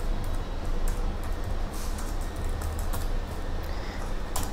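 Computer keyboard typing while words are entered in MS Word, a steady run of light key clicks over a constant hiss-like background, with a few sharper taps standing out.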